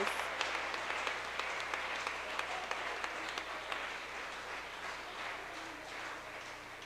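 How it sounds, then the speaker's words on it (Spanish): Steady applause from a church congregation fills the space, sustained and even, with a faint voice rising now and then beneath it. "Demos ese aplauso al Señor."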